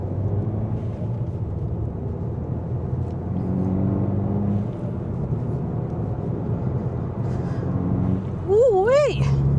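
Modified Abarth car producing about 230 bhp, driven with a steady engine drone and road rumble that swells slightly midway, ending in a short rising rev blip as a voice cries out excitedly.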